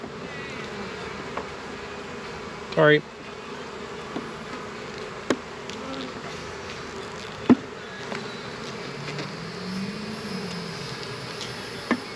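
Honeybees buzz steadily around hive frames during a backyard hive inspection, a continuous near drone with a louder bee zipping close past, a few sharp clicks and handling knocks, and one brief spoken word.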